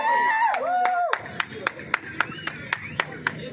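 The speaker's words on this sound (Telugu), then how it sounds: "command claps" Amid the noisy bustle of a fan gathering, people clap in a sharp, evenly spaced rhythm of single claps after a voice speaks over the crowd.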